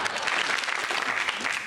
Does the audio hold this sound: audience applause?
yes